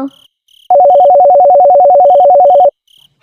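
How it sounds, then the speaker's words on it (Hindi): A phone ringtone trills steadily for about two seconds, a fast warbling electronic tone, with faint beeps before and after it. "अरे ये इतनी रात को किसका फोन है"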